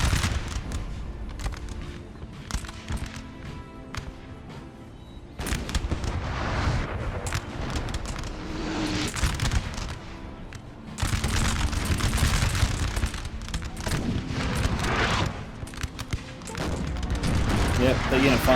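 Booming artillery and musket fire across a Napoleon Total War battlefield, repeated heavy volleys and rumbling blasts at mid distance, steady under a commentator's talk.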